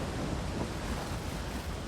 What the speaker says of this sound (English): this is a really, really gorgeous waterfall